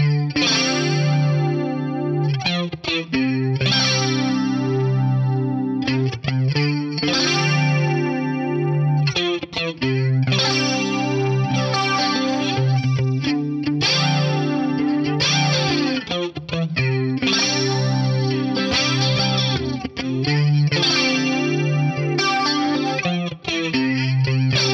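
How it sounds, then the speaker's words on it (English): Electric guitar chords run through an Axe-Fx III recreation of a vintage 9-volt Electric Mistress flanger, loud and continuous with a sweeping, swirling jet-like shimmer and slight grit, played alone without any talking. "I was lucky enough to borrow a vintage 9-volt electric Mistress"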